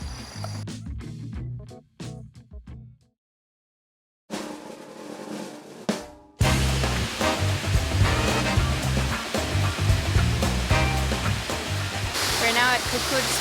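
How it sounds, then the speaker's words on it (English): Klong Chao waterfall on Koh Kood, Thailand, roars loud and constant as a broad rush of falling water, after brief earlier snatches of other sound and a short silence. "now at Koh Kood's biggest waterfall. It's called Klong Chao"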